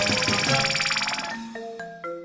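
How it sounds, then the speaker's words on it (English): A cartoon phone rings in a Baby Panda children's video game: a bright, rapidly repeating electronic trill that fades and gives way to a few sustained chime tones, clear and alone. "Kiki, your phone is ringing."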